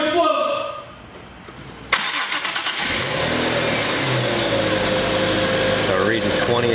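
An Infiniti G37 with a VQ37 engine and a failing oil gallery gasket cranks and fires up with a sharp start, then settles into a steady, fairly loud idle.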